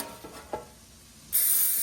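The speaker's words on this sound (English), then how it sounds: "I'm gonna spray one pan" Cooking spray hisses onto a bread pan while making Amish sweet sandwich bread: a few soft handling taps, then one sustained, bright spray burst close to the microphone.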